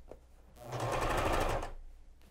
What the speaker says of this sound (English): So let me backstitch.